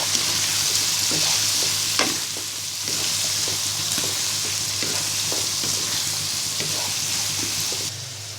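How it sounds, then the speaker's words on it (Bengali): Beans and potatoes stirred with spices in a hot frying pan, a continuous loud sizzle broken by repeated scraping strokes of a spoon against the pan. "এবার সব মশলার সাথে সিম এবং আলুটা ভালো করে মিশিয়ে নিব"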